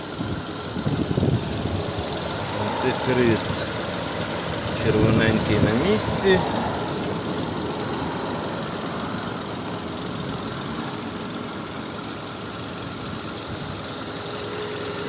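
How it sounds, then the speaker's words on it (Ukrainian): A 2007 VW Touran 1.6 MPI petrol engine idles steadily and evenly throughout, a low continuous rumble, with a person talking over it during the first half. "ось робота двигуна"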